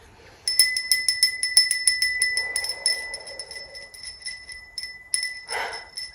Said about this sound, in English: I'm going to ring my little bell here.